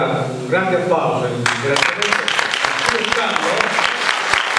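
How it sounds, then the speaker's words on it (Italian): Applause breaks out in a parish hall in the S. Maria dell'Arco parish after the first second and a half, a loud, dense clatter of many hands that keeps going to the end, with someone speaking over its opening and through it. "Ma io voglio ancora un grande applauso"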